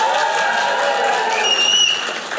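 Audience at a live comedy show clapping, a continuous wash of applause that fades slightly toward the end, with a few faint whistles.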